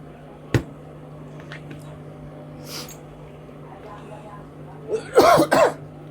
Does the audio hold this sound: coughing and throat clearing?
yes